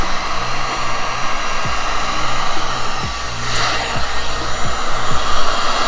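Heat gun blowing hot air while vinyl wrap film is worked onto a Rolls-Royce, a loud steady close whoosh with faint low squeaks of film being handled.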